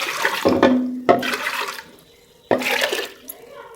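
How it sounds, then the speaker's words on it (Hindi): Water pours into a cooking pot of soaked dal in three splashing gushes, near and fairly loud, with short pauses between pours. "सारा पानी डाल देंगे इसमें।"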